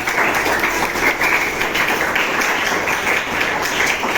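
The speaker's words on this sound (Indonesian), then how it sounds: "Tepuk tangan sekali lagi." A room full of people clapping at the end of a teachers' academic supervision session, dense steady applause at close range that holds for several seconds.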